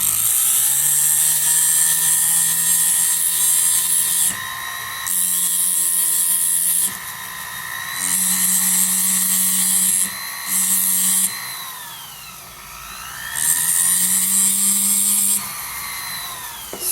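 A high-pitched whining rotary power tool bevels the top edge of a homemade bezel opening tool, running in repeated bursts of a few seconds with pitch dips under load and brief quieter gaps, close and steady.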